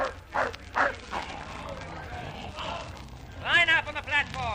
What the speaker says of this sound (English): Hold those dogs in check. Shorten the leashes.